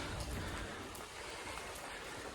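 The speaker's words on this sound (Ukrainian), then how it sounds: "Подивіться, як гарно, коли йде дощ." Steady rain patters and hisses outdoors, a soft, even wash of drops with no voices.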